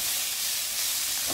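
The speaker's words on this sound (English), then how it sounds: "we got some peppers in the pan, some garlic" Garlic and peppers frying in a pan over turned-down heat, a steady soft hiss and sizzle running throughout, close and fairly quiet with no talking.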